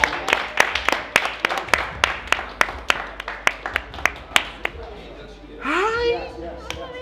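Audience applause for a contestant named Angel at a reunion show, heard as a sparse series of sharp individual claps in a steady rhythm, followed by a short burst of cheering and chatter.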